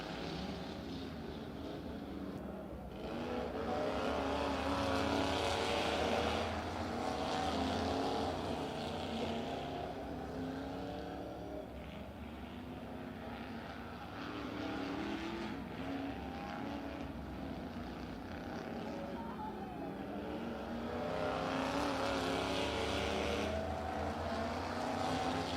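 Race cars on the Stockton dirt track, engines droning and swelling as the pack passes, loud then receding and building again, heard from the grandstand with no talking.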